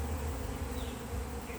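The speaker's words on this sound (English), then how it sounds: "look at the bees" Bees from a rooftop beehive on a skyscraper hum in a steady, dense buzz that fills the whole moment, with no voices over it.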